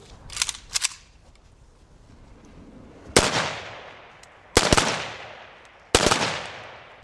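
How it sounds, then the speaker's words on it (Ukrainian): Three loud military rifle salute volleys crack out at even intervals at a soldier's funeral in Kryvyi Rih, each followed by a fading echo, after a couple of fainter earlier bangs. "Військову прощальну церемонію завершила салютна команда."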